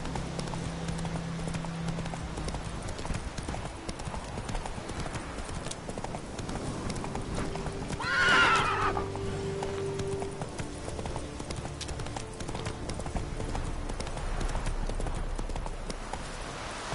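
Roach the horse from The Witcher 3 gallops in a steady, fast clip-clop of hooves beneath a constant game soundscape, with a brief louder swell midway.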